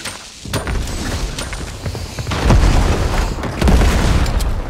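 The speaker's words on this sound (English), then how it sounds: "why are grenades so goddamn strong?" Grenade explosions in the video game Fortnite go off as several heavy, loud booms over a dense rumbling backdrop, the strongest blasts landing close together near the end.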